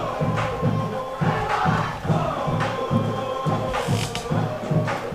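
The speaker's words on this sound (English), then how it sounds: "Big crowd came down from Pocahontas tonight for the Redskins." A big crowd cheers at a Redskins game at Southside, loud and close, over a steady rhythmic band beat that pulses underneath.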